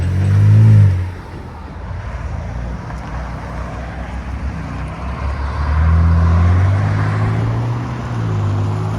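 A 2022 Nissan Frontier 3.8L V6 pickup with a Borla Attack exhaust and resonator delete revs up and settles into a deep, throaty exhaust rumble, close and loud, with a second rev building later.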